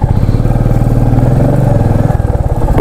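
Motorcycle engine on a solo ride through Lamayuru in Leh Ladakh, running close and loud with a rapid, even thumping pulse that stays steady, then briefly changes near the end.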